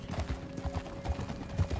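Several horses walk across ice in the Red Dead Online game, their hooves clip-clopping in a steady, overlapping rhythm at close range, with soft low thuds and no talk.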